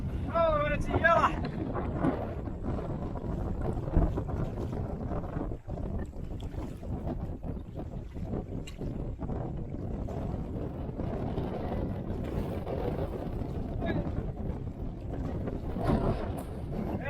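Wind buffets a small fishing boat on a freshwater impoundment, a constant rumbling roar against the microphone lasting throughout, with brief voices near the start.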